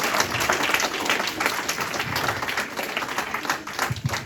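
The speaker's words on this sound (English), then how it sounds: "You can express your gratitude and applaud our lovely debate team." Audience at a school debate event for 9th and 10th graders applauds the debate team with dense, steady clapping from a room full of people, holding at a constant level for several seconds.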